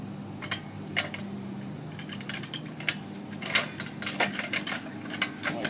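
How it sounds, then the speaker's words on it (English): A cheap jack ratcheting to lift a Brute Force 750 ATV, rapid irregular metallic clicks repeating close by over a low background hum, with no talk. "I'm going to jack the tire up."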